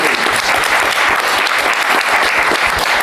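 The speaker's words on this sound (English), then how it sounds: "We give him a round of applause." Audience applause at a comics convention panel: steady, dense clapping from a full room, loud and continuous for the whole stretch with no voices on top.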